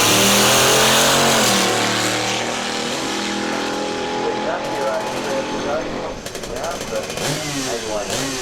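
Golden Skoda Fabia 1.5 litre race car accelerating hard down a drag strip, a loud engine roar with rising revs and gear changes, with an announcer talking over it throughout.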